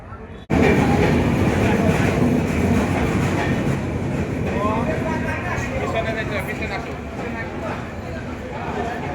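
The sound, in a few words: train arriving at a station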